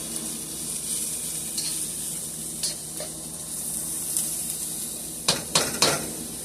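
Cabbage and beef cubes frying in a pan give a steady, close sizzle, with a few sharp scrapes and clinks of a utensil against the pan near the end.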